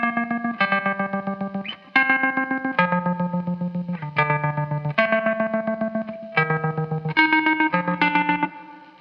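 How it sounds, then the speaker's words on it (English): Electric guitar through a slicer effect, a sharp, choppy gated stutter chopping sustained chords into rapid pulses, loud and present, running continuously with no talking. "So the slicer is very cutting and it's like that."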